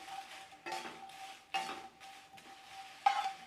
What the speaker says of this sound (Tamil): இப்போ ஃபைனலாக காஷ்மீரி மிளகாய் வறுத்துக்கலாங்க